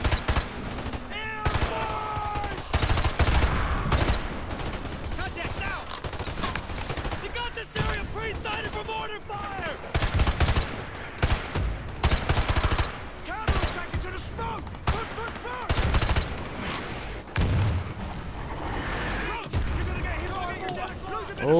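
Dense gunfire rattles from Call of Duty: Modern Warfare 2 Campaign Remastered, with loud bursts and automatic fire running almost nonstop, and a player talking over the shooting.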